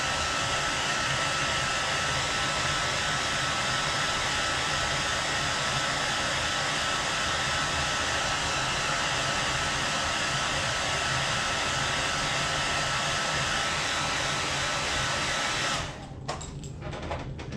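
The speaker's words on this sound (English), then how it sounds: "I'm gonna try to heat dry that without it kind of spreading." Heat gun drying paint on a lipless fishing lure, a steady loud whooshing blower roar running unbroken for about sixteen seconds before cutting off abruptly.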